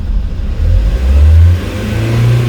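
A car engine revs up and holds a steady, loud drone, rising in pitch briefly before settling, close by with no talking.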